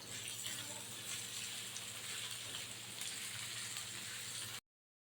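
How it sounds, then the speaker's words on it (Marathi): Onion with green chillies and curry leaves frying in oil gives a steady, even hiss and crackle, soft and unbroken until it cuts off near the end, with no talk. "कांदा छान आपण मऊ करून घ्यायचा आहे तेलामध्ये मऊ होईपर्यंत चांगलं शिजून घ्यायचं आहे"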